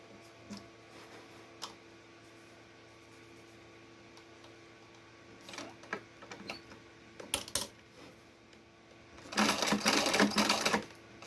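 A sewing machine stitches a folded hem on a cloth dish towel, run slowly through the thick seam. Scattered quiet clicks and handling noises come first, then a short loud burst of rapid stitching near the end.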